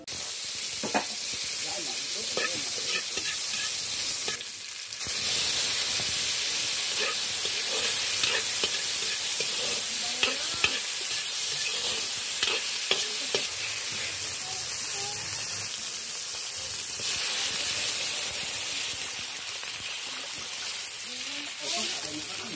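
Vegetables for sinigang cooking in a pot, a steady hiss and sizzle with intermittent stirring clatter across the whole stretch and a brief pause partway through.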